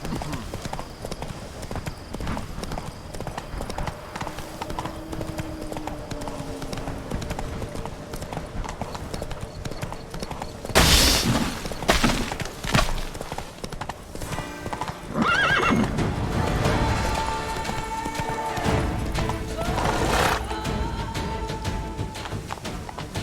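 Horse hooves clip-clop steadily in The Witcher 3 video game, with loud neighs and whinnies breaking in midway, over continuous game ambience, while a person talks at times.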